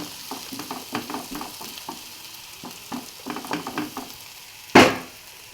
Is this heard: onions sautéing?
yes